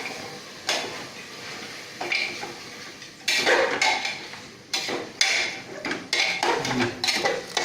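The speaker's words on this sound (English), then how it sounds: "And let's stir it a little bit." A spoon stirs Indian lal maans curry in a pot, giving repeated knocks and scrapes against the metal, moderately loud and close, in irregular bursts with no talking.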